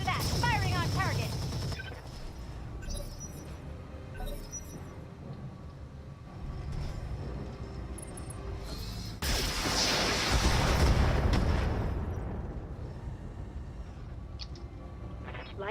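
Mech machine guns in the Roguetech game fire on a target with booming, rattling bursts mixed into a busy battle soundscape, swelling strongest in the second half while voices talk over parts of it.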